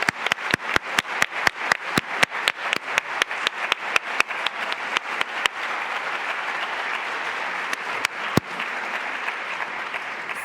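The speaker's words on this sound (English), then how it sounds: "I just want to make sure we give a large round of applause to Ambassador Rice and John Rice" Audience at a Yale lecture event applauding Ambassador Rice and John Rice: sharp rhythmic claps in a steady beat at first, then a fuller, continuous round of applause that gradually thins.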